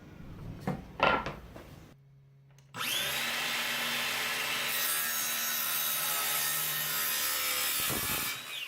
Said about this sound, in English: Chop off a piece of wood